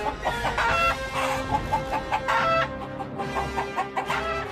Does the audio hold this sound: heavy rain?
no